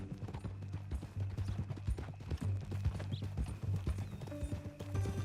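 Horse hooves clip-clop steadily in Red Dead Redemption 2, a close, rhythmic clatter of a horse walking, with a brief whinny or snort partway through and low ambient rumble underneath.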